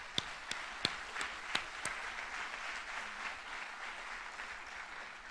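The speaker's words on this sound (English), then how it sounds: "Let's just give them a round of applause for being with us." Audience applause for Jon Huntsman's children at a Lamar University lecture, a soft, fairly distant wash of clapping with a few sharper individual claps standing out early, steady and fading slightly over about five seconds.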